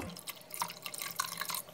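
Water pours into a salsa of corn masa and nopales that is cooking, with a steady splashing and dripping trickle, close and clear, lasting a couple of seconds with no voices.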